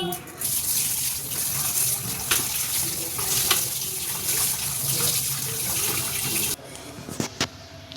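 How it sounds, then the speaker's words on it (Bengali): Running tap water splashes steadily as hilsa fish and chicken are rinsed in a kitchen, loud and continuous, then easing off near the end. "এ দেখো মাছ ধুয়ে নিয়েছি এখানে চিকেনে ধোয়া হয়ে গেছে"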